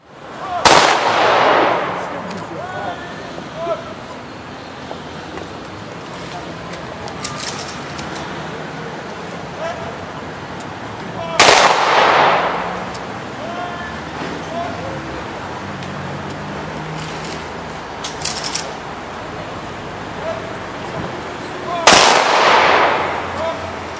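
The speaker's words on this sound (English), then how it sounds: "there was a volley of shots from the RAAF firing party in salute" A rifle volley from an RAAF military firing party in salute at a memorial service, three loud, sharp cracks spaced about ten seconds apart and echoing outdoors, with quiet ambience and faint birds between them.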